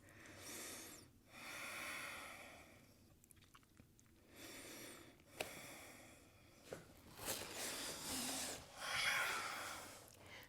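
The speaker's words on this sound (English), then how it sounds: "Taking a couple of deep breaths." Slow deep breaths in and out during a Pilates workout, several long airy inhales and exhales close to the microphone, with no talk over them.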